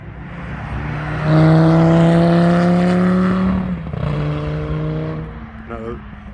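A muscle car at a track day on a race circuit sweeps past with a loud, rising engine note that holds for a few seconds, then fades and returns more faintly, with speech over the top.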